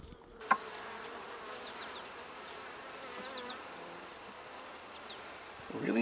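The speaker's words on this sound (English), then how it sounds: "Really impressed with the number of bees around here." Honeybees buzz around an open hive frame during a split inspection, a faint, steady drone with occasional closer passes and a couple of soft handling knocks.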